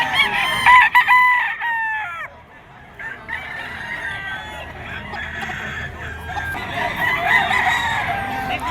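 A yellow-legged bull stag gamecock crows loudly up close, a drawn-out cock-a-doodle-doo followed by further crowing and clucking from nearby fowl, with faint talk in the background.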